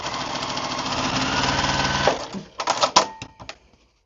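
A sewing machine stitches beginner quilt pieces with a dense, even run for about two seconds, then stops and gives way to scattered clicks and handling noises close by.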